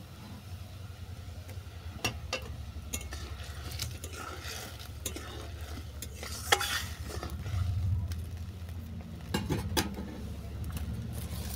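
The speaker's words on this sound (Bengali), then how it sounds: "আরও 2 মিনিট ফুটতে দিলাম।" Sour shankar fish curry bubbling in a pan, a soft steady simmer with occasional clinks and scrapes of a spoon against the pan, close and quiet.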